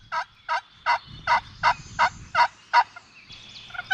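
A wild turkey tom gobbles in a rapid string of about eight loud, evenly spaced calls, heard clearly up close in the open outdoors with no talking over it.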